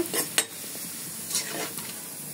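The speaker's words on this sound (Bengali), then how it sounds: "এখন চিংড়ি শুটকি দিব, ছোট চিংড়ি শুটকি ভাজি করা শেষ" Small dried shrimp frying in hot oil in a pan, a moderate sizzle broken by a few quick metallic clinks and scrapes of stirring.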